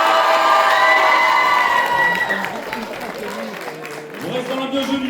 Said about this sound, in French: On l'applaudit bien fort encore une fois.